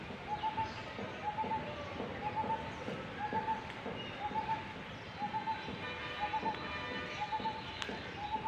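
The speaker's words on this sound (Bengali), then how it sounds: "সুন্দরভাবে পাখি ডাকতেছে।" Birds call outdoors near tethered goats and leafy greens, with a dove-like cooing phrase repeated steadily at a regular rhythm against a soft rustling background, moderately distant and fairly quiet.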